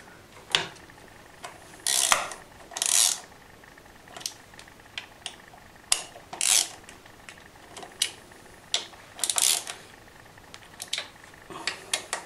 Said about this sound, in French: maintenant nous avons donc resserré toutes les vis qui font le tour de notre carter de transmission